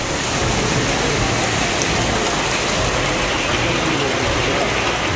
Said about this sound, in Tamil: கடலூர் மாவட்டம் சிதம்பரம் மற்றும் சுற்றுவட்டார பகுதிகளில் இடி மின்னலுடன் மழை பெய்ததால் குளிர்ச்சியான சூழல் நிலவியது.